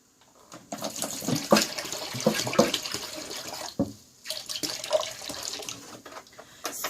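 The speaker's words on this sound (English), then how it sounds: "I want to show you how much water fits in each bucket" Water glugs and splashes as gallon bottles are poured into a spin mop bucket, a close, continuous pouring with uneven gurgling bursts and two brief pauses where a bottle is switched, no talking.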